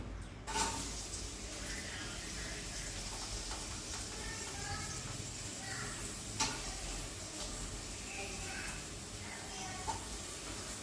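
Onions fry in a pan for Tamil paruppu soru, giving a soft continuous sizzle under someone talking, with a couple of brief clinks.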